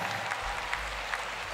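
Audience applause for two backing vocalists at a live jazz festival concert, a steady dense patter of clapping filling the short stretch, moderately distant with a low hum beneath.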